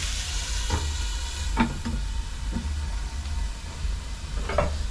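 Bolognese sauce of ground beef simmering on low heat in a covered pot, a steady low bubbling hiss with a few soft clinks and pops, close and alone.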